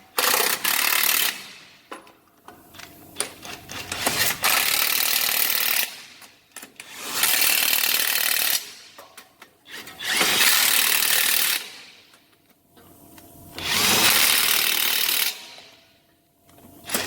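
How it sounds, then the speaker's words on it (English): An impact wrench tightens the wheel bolts on a rear drum brake, firing five loud rattling bursts of a second or two each, with quiet pauses and small clinks between them. "now I'll go get the impact and we'll tighten these up"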